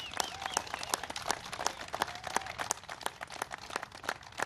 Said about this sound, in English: That's worth a big round of applause.